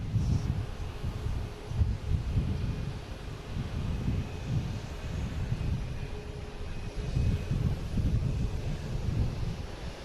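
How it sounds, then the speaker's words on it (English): A JetBlue airliner takes off from runway 9 at Boston Logan, its jet engine roar heard from a distance as a broad, steady rumble over wind buffeting the microphone. "next taking off, we have a JetBlue heading to Richmond on runway 9"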